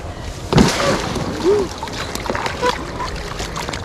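Someone wades into a river at the start of pike fishing season, water splashing and sloshing around the legs in a few uneven bursts, fairly close, with background voices now and then.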